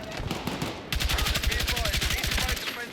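In Battlefield 6, an automatic weapon fires a rapid, even burst of gunshots lasting about two seconds. Busy game noise comes first and surrounds the burst.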